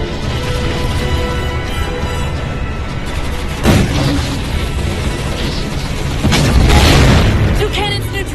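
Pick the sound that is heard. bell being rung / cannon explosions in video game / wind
cannon explosions in video game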